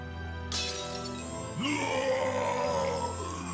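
In the GrimGrimoire OnceMore video game, a glass flask shatters with a sharp, bright crash, followed by a low groaning, roaring cry over sustained musical tones.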